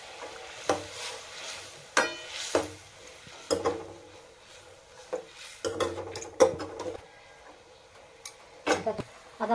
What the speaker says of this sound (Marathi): आता तुरीच्या शेंगा टाकून देऊ आपण त्याच्यामध्ये.